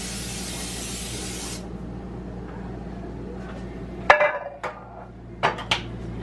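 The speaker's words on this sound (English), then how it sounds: "We have to spray the pan." Cooking spray hisses from an aerosol can onto a pan in a home kitchen, a steady broad burst for the first second and a half, followed by several sharp clanks of dishes and utensils.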